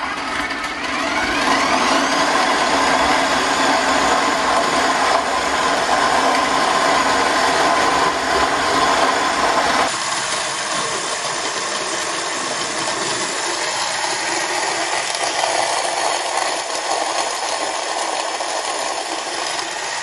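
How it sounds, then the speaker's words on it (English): A KitchenAid grain mill attachment grinds grain at speed 10 with a steady, loud mechanical whir and grinding rattle that runs continuously, its tone shifting partway through. "I did not find the grain mill awfully loud."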